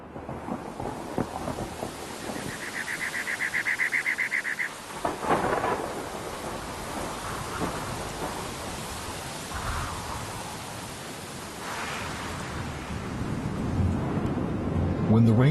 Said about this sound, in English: Repeated setbacks had halted excavation as torrential rains swept the region.